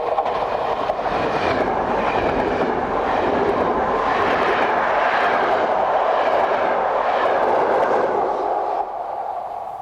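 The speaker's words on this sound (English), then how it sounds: "is on the rear of this push-pull operated train bound for Turin" Loud, steady roar of a passing push-pull diesel passenger train bound for Turin, with a droning engine and rhythmic rumbling that holds throughout, then eases slightly at the end.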